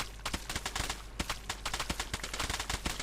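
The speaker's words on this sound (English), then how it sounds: "I really enjoy mining mud." Mud blocks mined in rapid succession in a blocky sandbox game, a dense run of close, punchy thuds in a fast, slightly uneven rhythm.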